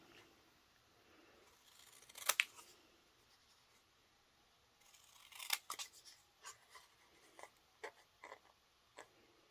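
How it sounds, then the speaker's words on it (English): Paper snips free-cutting a small paper sentiment at a crafting table: a couple of sharp snips early on, then a run of quick, close, crisp cuts spaced irregularly, fairly quiet with no talk. "now I'm going to take my paper snips and I'm just going to free cut that little thanks out"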